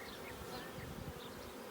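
Bees buzzing steadily around an open beehive during honey production, a continuous close drone with faint wingbeat rises passing near, no voices.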